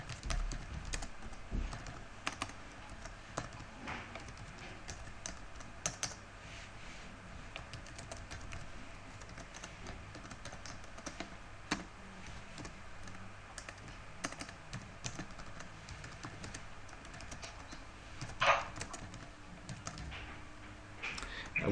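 Steady typing on a computer keyboard while a C++ program is written in a Linux text editor, continuous close clicking keystrokes with scattered louder taps and a faint voice now and then.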